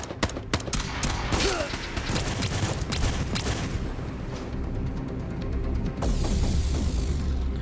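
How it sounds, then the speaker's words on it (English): Rapid gunfire from Dawn of War 2: a dense run of sharp shots and bursts crackles over a busy battle din, with loud isolated cracks early and another burst near the end. "They just shot the other guys"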